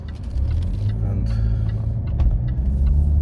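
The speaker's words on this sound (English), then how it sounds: "Just wait for this car to come past." A car on a village road near Brixworth in Northamptonshire passes close by, its engine rumbling and swelling steadily as it approaches and moves along, loud and continuous, with one brief spoken word.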